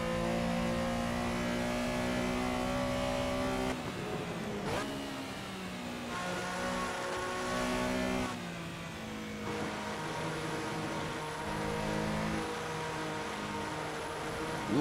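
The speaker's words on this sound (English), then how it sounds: "Love the sound of this Porsche." Porsche Carrera engine in the Assetto Corsa racing game at Silverstone, a loud steady high-pitched engine drone that drops with gear shifts around four and eight seconds, then climbs again, alone without talking.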